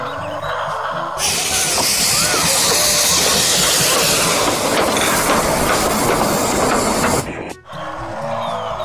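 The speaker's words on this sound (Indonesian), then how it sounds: "Kereta apinya mengelilingi mainan." A toy train rattles loudly and steadily along its track close by, clattering continuously for several seconds before a brief drop and resuming.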